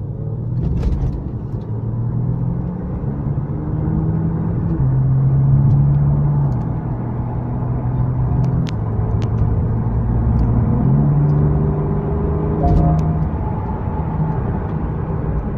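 A car driven at top speed on a local road, its engine droning steadily with a low rumble and rising, shifting tones; no voices over the continuous loud noise.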